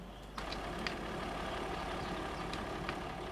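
A tractor engine idles steadily in Farming Simulator 25 after being parked, a continuous low rumble with a faint click near the start.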